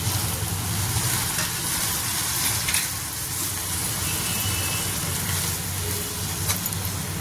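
Sprouted moth beans (matki) sizzle in a hot pan for a matki usal, a steady close crackling hiss with faint stirring scrapes throughout.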